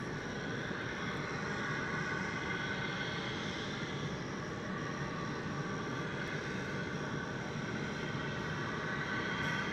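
Airliner on arrival into DFW Airport after a flight from Des Moines, a steady broadband jet roar holding loud and constant throughout with no voices.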